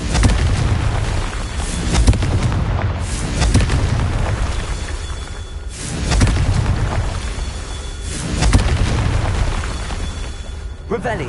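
Confringo blasting spells in Hogwarts Legacy on PS5 burst in repeated booming explosions, several heavy blasts spread across the stretch with rumbling tails between them.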